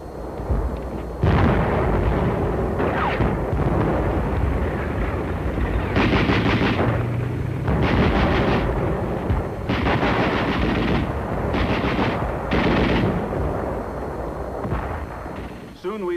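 Heavy gunfire and bursts of machine-gun fire during a WWII beach landing in the Mariana Islands, loud and sustained with repeated rattling volleys and booming shots over a constant battle din.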